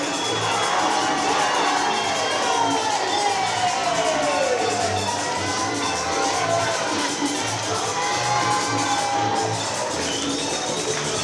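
A wrestling crowd cheering at ringside during an independent wrestling show, a loud, continuous roar of shouts and whoops from many people, with whistles rising and falling throughout.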